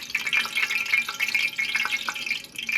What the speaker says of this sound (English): If you guys want to test the oil to see if it's hot enough, take a drop of water, not too much, it'll explode